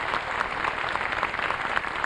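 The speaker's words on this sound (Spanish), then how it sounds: "Nosotros saludamos desde aquí a la ciudad de Buenos Aires, capital de la República Argentina y capital cultural de América del Sur, con este cálido aplauso" An audience at an inauguration ceremony in Buenos Aires applauding, a dense, steady wash of clapping held at an even level throughout.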